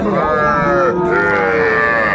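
Cattle at a busy livestock market in Tangail, where young bulls and heifers are sold, give a loud, close, drawn-out moo with another low call overlapping it, over crowd noise.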